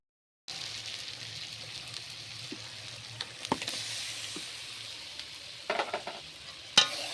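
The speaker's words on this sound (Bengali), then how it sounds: "দিয়ে ভালোভাবে দিয়ে একটু কষিয়ে নেব।" Chili powder fries with taro stems in a pan, giving a soft, steady sizzle after a brief silence, broken by scattered scraping stirs and a few sharper clinks of the utensil.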